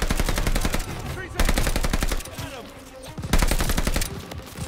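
Loud, rapid automatic gunfire in the video game Call of Duty Vanguard, Phoenix mission, with dense machine-gun bursts in rhythmic rattling volleys broken by brief lulls, close and dominant.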